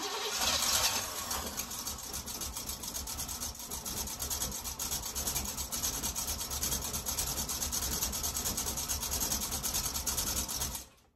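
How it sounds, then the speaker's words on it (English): A continuous harsh mechanical rubbing and grinding, loud and close, running steadily with a fast ratcheting texture before cutting off abruptly: a spacer rubbing on the flywheel of a third-generation Trans Am engine. "That little friggin' spacer in there is rubbing on the flywheel now"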